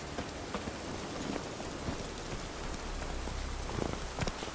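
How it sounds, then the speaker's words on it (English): Steady rain falls throughout with a dense, even hiss and scattered drip spatters, moderately loud and close, with no voices. "Raining again."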